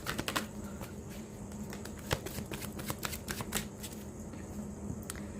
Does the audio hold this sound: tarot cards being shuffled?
yes